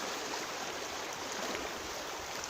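Mountain river in the Carpathians at Yabluniv, a dense, steady rushing of flowing water that fills the whole clip at constant loudness, with no voices.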